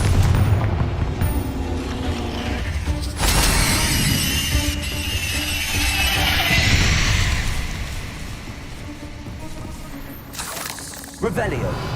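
Fiery Confringo spell blasts from Hogwarts Legacy gameplay, loud booming bursts around 3 and 6 seconds with crackling spray, a sharp hit near 11 seconds, over continuous game ambience and voices.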